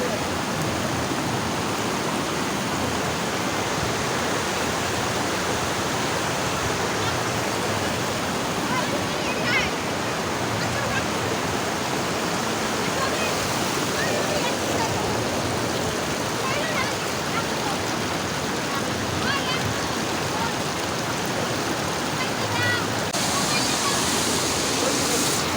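Water rushing steadily among hills, a loud, broad continuous roar like a waterfall or fast stream, unbroken throughout.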